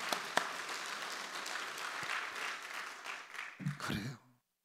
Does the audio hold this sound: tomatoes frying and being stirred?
no